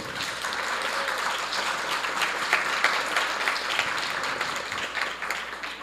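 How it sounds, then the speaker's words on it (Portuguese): An audience at a panel session on rights and the justice system gives sustained, moderately loud applause, with dense clapping that stays even throughout. "Aplausos."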